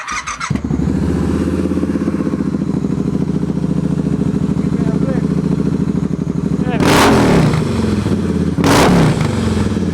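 Supercharged custom Triumph motorcycle engine idling with a loud, rapid lumpy thump, then revved hard twice in short sharp bursts, close by.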